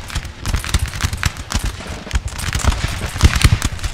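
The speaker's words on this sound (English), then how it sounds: "One volley of cannons there being ordered by the general" A cannon volley in the Napoleonic battle game Napoleon Total War: a loud, ragged string of sharp booms and cracks rolls on for several seconds without voices.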